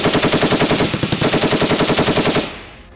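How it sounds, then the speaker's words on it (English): An M240 general-purpose machine gun, a US-built FN MAG, firing one long, loud, close sustained burst of rapid evenly spaced shots that ends abruptly, followed by a short fading echo. "M240 machine gun."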